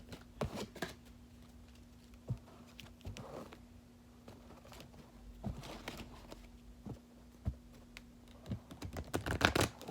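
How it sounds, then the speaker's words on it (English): Tarot cards being shuffled by hand, a series of soft, quick riffling clicks and taps in a quiet room, irregular bursts rather than a steady rhythm, with no talking. "Let's shuffle them up."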